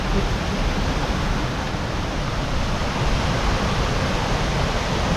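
Creek water rushing steadily over rocks on a backpacking route near Sharktooth Creek, a loud continuous broadband roar with no pauses and no voices.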